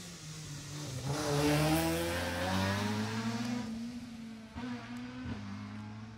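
An orange Mark II rally car, number 44, on a stage of the Jersey Rally accelerates past with its engine revving through rising gear pulls, then shifts and fades slightly, heard from the roadside.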